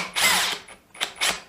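Hitachi DV 18DBFL2 cordless drill driving 4-inch, 12-gauge screws, close and loud, with whirring bursts of driving separated by short pauses and quick ratcheting clicks from the torque clutch.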